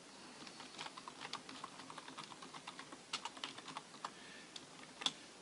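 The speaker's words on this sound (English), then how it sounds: "So I can type in" Quiet, quick typing on a computer keyboard, a run of light irregular key clicks with a slightly sharper tap near the end.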